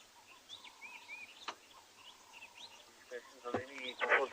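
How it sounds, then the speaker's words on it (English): A helmet shrike calls outdoors at sunrise in the African bush, giving short repeated chattering notes that grow louder near the end amid other faint bird calls. "It's one of two helmet shrike species we get here."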